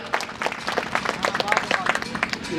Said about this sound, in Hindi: लोग एक बार जोरदार तालियां बजा के थोड़ा मन बनाए